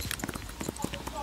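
Video game horse hooves clip-clop at a walk over a bridge in Horse Valley, a quick, even run of soft hoofbeats mixed with game ambience.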